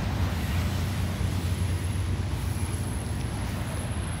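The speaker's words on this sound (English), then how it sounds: "This is a fucking train." A train passing nearby, a steady loud rumble of wheels and cars rolling along the rails, constant throughout the brief stretch with no talking.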